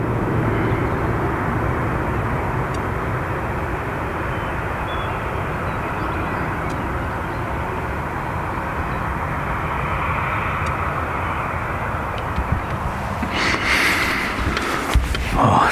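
A passenger airliner taxiing at Dublin Airport gives off a steady, broad engine rumble and whine that holds level throughout, with a brief louder swell near the end.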